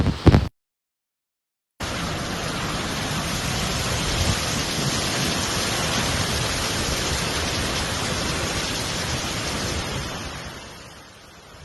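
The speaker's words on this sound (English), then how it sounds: "the hurricane's violent winds shredded everything in sight" Category 5 hurricane winds with heavy rain lashing Jamaica, a dense, steady roar of wind and downpour that runs loud and unbroken for about eight seconds after a brief gap, then begins to ease at the end.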